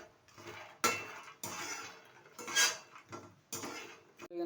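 A large kadai (wok) clanks and scrapes as it is handled in a kitchen, with several distinct metallic knocks spaced over a few seconds.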